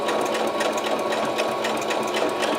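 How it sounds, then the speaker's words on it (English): A sewing machine stitches along grosgrain ribbon for a key fob at a slow, even pace, its needle chatter running as a steady, close mechanical whir with no talk. "I don't go fast because I'm just not that much of an expert in sewing yet."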